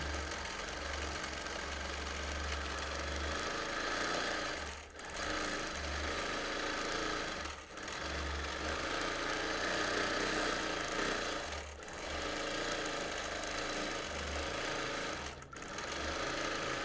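A sewing machine runs steadily while free-motion stitching flames onto a thick T-shirt quilt, its needle chugging in a fast, even rhythm. It pauses briefly every few seconds, then carries on, with no voices.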